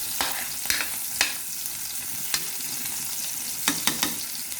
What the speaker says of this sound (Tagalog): Iba-brown lang natin ng konti bago ihulog yung bawang at saka onion.